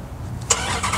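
A 2023 Dodge Demon 170 engine cranks and catches about halfway through, a sudden loud start that settles into a steady, near rumble after a quiet lead-in.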